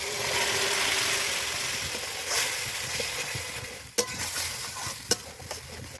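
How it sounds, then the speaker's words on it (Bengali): Boiled tarka dal hits a pan of frying spices and is stirred, giving a loud steady sizzle that fades slightly as a spoon scrapes and clinks against the pan a few times. "এই যে তরকা ডালটা আমি সেদ্ধ করে নিয়েছি, এটা দিয়ে দেবো।"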